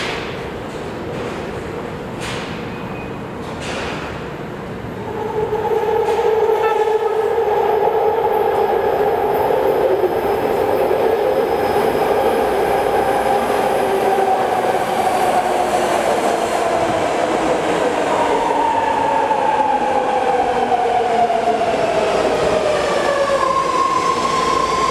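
A BART train at West Oakland Station: a deep rumble swells loudly after a few seconds and holds steady, with rising and falling electric whines and clattering wheels as the cars roll through.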